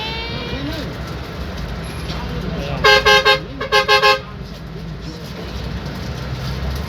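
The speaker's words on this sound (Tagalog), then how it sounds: "Yan ang busina eh, magka 5 star eh." A loud Five Star bus horn honks in two quick bursts of short toots over constant traffic rumble and engine noise.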